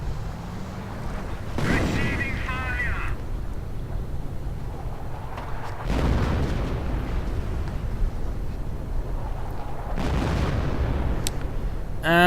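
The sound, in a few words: howitzer artillery bombardment in a video game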